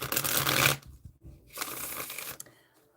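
A pocket angels oracle card deck being shuffled at close range, two quick riffling bursts separated by a short pause, loud and crisp with no talking.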